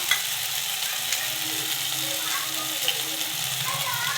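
Turmeric and spices frying in oil in a pan for a banana-flower and egg curry, a soft steady hiss with faint scraping, fairly close and even.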